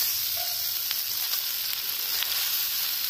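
Boiled mini puli pithe sautéing in butter with vegetables in a pan, a continuous close sizzle with a few light stirring clicks and no talk.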